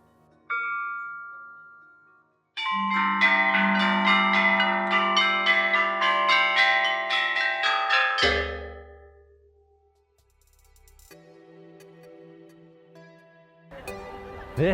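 Ancient Chinese bronze bells nearly 2,500 years old being struck: a single ringing tone, then a clear, sustained melodic run of overlapping chimes, followed by softer, scattered strikes near the end.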